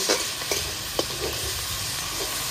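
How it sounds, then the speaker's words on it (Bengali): Dried prawns frying with salt in hot oil make a continuous close sizzle. Several soft scraping stirs sound over it. "তারপরে লবণ দিয়ে ভেজে নিচ্ছি।"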